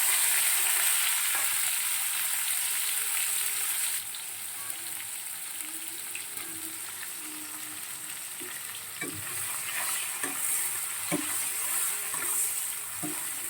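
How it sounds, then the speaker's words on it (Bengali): Chopped onion and tomato frying in hot oil with cinnamon, cloves and whole dried chilli, a close steady sizzle with scrapes and taps of stirring that briefly grows louder. "এবার পেঁয়াজ কুচি, টমেটো কুচিটা দিয়ে দিলাম।"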